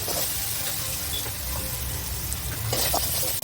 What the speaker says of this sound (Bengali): আমি একটু কষে নিচ্ছি।